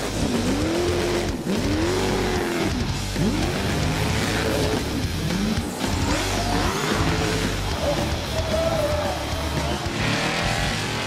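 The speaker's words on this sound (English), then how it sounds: "And what Powercruise is all about, the power skids." V8 cars do burnouts and power skids at a Powercruise event. Loud engines roar and rev continuously, rising and falling in pitch, with tyre squeal and skidding mixed into a dense, unbroken wash of motor noise.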